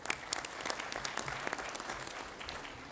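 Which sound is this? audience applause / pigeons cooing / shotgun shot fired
audience applause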